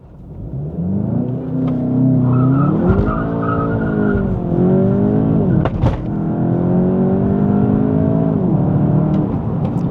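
A 2026 Volkswagen Jetta GLI in Sport mode with stability control off brakes hard to a full stop, with loud tire squeal and engine noise rising and falling over several seconds, no voices.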